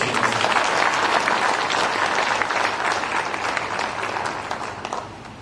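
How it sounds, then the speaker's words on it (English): Steady applause from an audience at an EU–Kenya trade deal signing ceremony in Nairobi, welcoming the EU ambassador to the stage; dense, sustained clapping that fades slightly near the end. "Let's give a round of applause."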